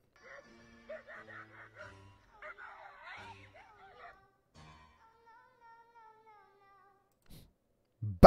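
A cat meows and yowls several times in a row, close and fairly loud, with drawn-out wavering cries, ending with a sudden thump.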